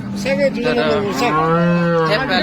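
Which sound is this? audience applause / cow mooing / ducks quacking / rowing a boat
cow mooing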